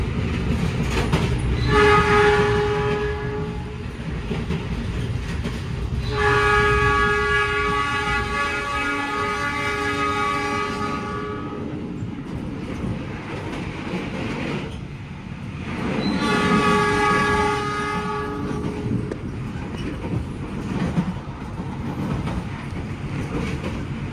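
Argo Bromo Anggrek, an Indonesian executive express train, runs straight through Randu Blatung station, its horn sounding in several long blasts over a steady loud rumble and rattle of wheels and cars.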